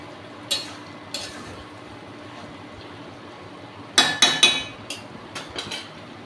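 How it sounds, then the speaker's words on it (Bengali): A spoon stirs ground spices with water in a pan for a potato and papaya curry, giving a few scattered scrapes and clinks, then a quick cluster of metallic knocks near the end over a faint background hiss. "জল দিয়ে আমি এবার কষিয়ে নেব।"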